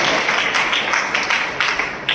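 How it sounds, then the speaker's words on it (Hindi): A church congregation claps during a Hindi sermon, producing a steady, moderately faint patter of many hands with a few louder bursts, heard without speech. "अपने लिए ताली बजाइए।"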